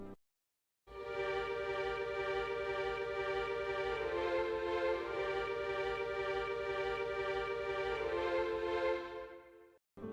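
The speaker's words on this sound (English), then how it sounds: "in the background, you also hear synth strings playing chords with some wet reverb, which in isolation sounds like this." Synth strings sustain layered chords drenched in wet reverb, a smooth, steady harmonic pad lasting about nine seconds that starts abruptly after a short silence and fades near the end, heard alone at moderate volume.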